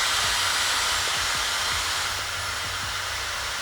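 Dyson Supersonic hair dryer blowing at speed level 3, a loud, steady high-pitched whoosh of air with a faint motor whine and a few soft low clicks underneath.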